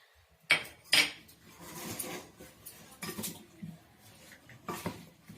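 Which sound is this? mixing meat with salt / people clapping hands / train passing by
mixing meat with salt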